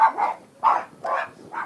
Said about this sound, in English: Except for dogs barking